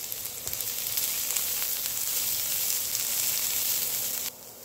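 Chopped onion, one large onion's worth, fries in a pan with a constant crackling sizzle at moderate volume, steady from start until a sudden drop just before the end, with no talking.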